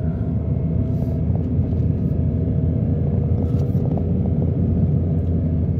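A 2024 Mitsubishi Mirage climbs a steep mountain road in low gear, its engine giving a steady, continuous low rumble with road noise throughout and no talk.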